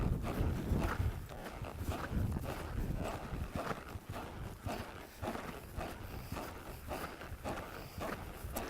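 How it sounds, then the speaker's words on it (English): A horse at a counter canter, steady rhythmic hoofbeats thudding on footing, close and continuous with wind noise and no clear voices. "Now I didn't ask for that counter canter right there either"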